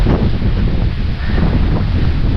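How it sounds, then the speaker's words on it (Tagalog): Strong wind buffeting the microphone outdoors, a loud continuous low roar with rushing gusts throughout and no talking. "Wow, grabing hangin, lakas."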